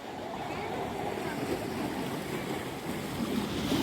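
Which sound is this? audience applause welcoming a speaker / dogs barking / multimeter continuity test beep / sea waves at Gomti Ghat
sea waves at Gomti Ghat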